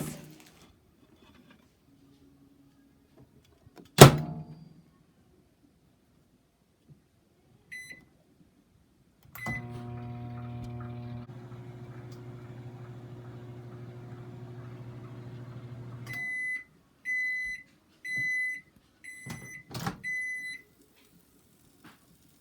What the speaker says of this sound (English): Microwave for 2 minutes.